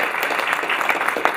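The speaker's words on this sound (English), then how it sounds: "Let's give them a warm round of applause" Audience applause for a panel at an engineering conference session, a steady dense patter of many hands clapping at moderate level for the whole short stretch.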